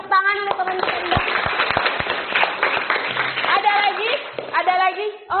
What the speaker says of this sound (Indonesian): tepuk tangan untuk teman kita Indah.